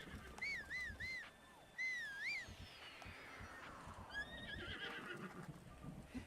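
A horse in Breath of the Wild gives several bright, wavering whinnies with soft hoof clops underneath and faint birdsong in the background.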